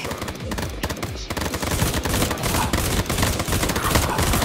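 Rapid gunfire from a burst-fire weapon in the zombie shooter Zombie Survivors, loud and close, with repeated sharp shots crackling in quick bursts over chaotic game action.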